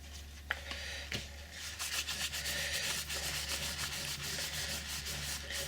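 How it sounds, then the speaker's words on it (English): A pad rubbing sanding sealer onto a wooden pen blank turned slowly by hand on a lathe, a soft steady scuffing with rhythmic rubbing strokes, quiet and close. "apply the sanding sealer."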